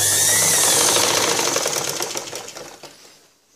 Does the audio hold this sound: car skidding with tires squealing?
no